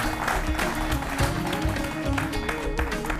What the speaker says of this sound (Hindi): फातिमा सुगरा जी, जोरदार तालियां।